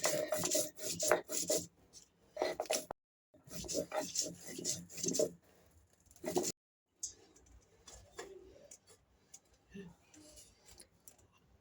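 Dried chili and garlic ground by hand on a stone slab, giving repeated rhythmic rasping, rubbing strokes close up, broken by short pauses, with a voice talking over parts of it.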